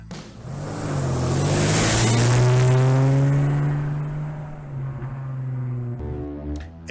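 A pickup truck engine near Table Mesa Road in Arizona revs up and pulls away, its tone rising, holding and then easing as it fades, heard close without talk.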